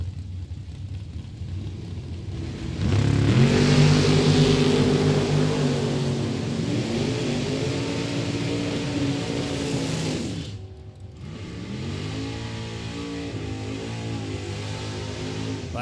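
A Chevrolet Camaro launching down a drag strip at a Michigan motorplex, its engine note rising loud and close with sweeping harmonics that climb through the gears, a brief cut, then a second roaring pass fading.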